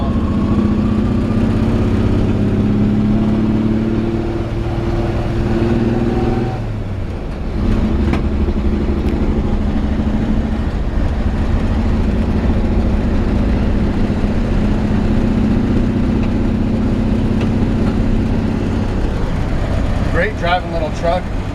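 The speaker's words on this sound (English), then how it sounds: "Touch of the starter pedal and she fires right up." A 1954 Chevy 3100 pickup with a column-shifted three-speed runs while driving, a loud, close, steady engine drone with a brief dip around a gear change, someone talking intermittently over it.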